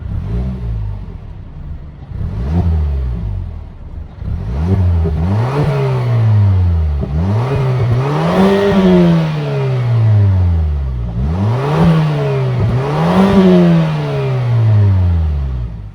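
A 2022 Mazda CX-9's 2.5-liter turbocharged four-cylinder engine is revved repeatedly from idle, each blip rising in pitch and falling back, several loud close revs in a row with a throaty exhaust rumble.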